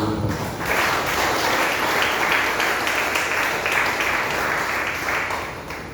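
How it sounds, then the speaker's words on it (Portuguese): A church congregation at a missions service applauds together, a dense, sustained wash of clapping from a sizeable crowd that holds steady for several seconds before easing slightly. "Você que pode aplaudir o Senhor."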